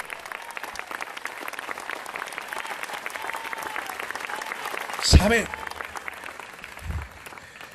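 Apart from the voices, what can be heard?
audience applause in a church service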